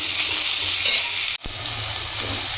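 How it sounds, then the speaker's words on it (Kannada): Mutton and chicken pieces deep frying in hot oil, a steady loud sizzle broken by a brief sharp drop near the middle before the bubbling resumes. "ಸೊ ಇದನ್ನು ಡೀಪ್ ಫ್ರೈ ಮಾಡ್ಕೊಳ್ಳೋಣ."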